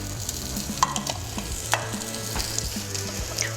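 Carrots, celery and onion fry in hot oil with a steady sizzle, interrupted by a few clattering knocks and scrapes of a utensil against the pan, with a low hum underneath.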